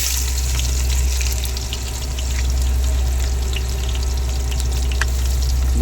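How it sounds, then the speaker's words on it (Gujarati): Onions frying steadily in red masala for a pomfret fish curry, a dense continuous sizzle with a low hum underneath, close and loud throughout, no voices. "ડુંગળીને એકદમ શેકાવા દેવું।"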